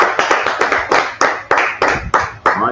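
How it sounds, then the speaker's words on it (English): A congregation claps hands together at a Sabbath service, about a dozen loud, close, rhythmic claps in steady time with no talking. "Clap it up."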